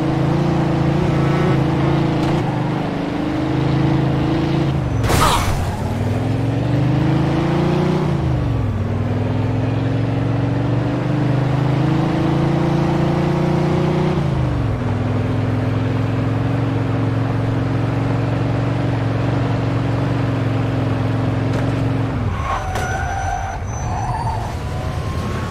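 A speeding car roars along in a Mafia II police chase, its engine droning loud and steady with pitch rising and falling through gear changes, plus a sharp burst and a screech near the end.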